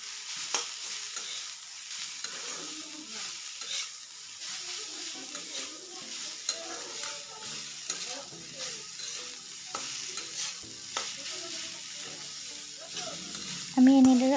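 Vegetables being stirred with salt and turmeric for a mula (radish) bhaji, a steady scraping and sizzle in the pan throughout, with a brief louder clatter near the end.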